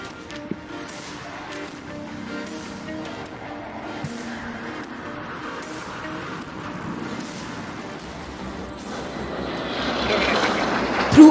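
A Sherdil jet diving at high speed during a Pakistan Day air show roars throughout, holding a sustained engine rush that swells and grows loudest toward the end as the aircraft closes in.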